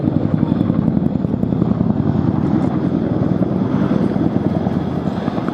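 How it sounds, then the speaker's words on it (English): An RAF Chinook helicopter roars loudly and continuously overhead at the Duxford air festival, its heavy rotor chop thudding in a steady rapid rhythm as it turns away from the crowd. "The Chinook now turns away to perform a 60-degree offset wing over away from the crowd centre."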